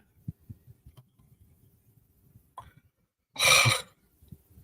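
A single sharp cough bursts out loudly after several seconds of quiet rustling and soft handling noises, nearby and short.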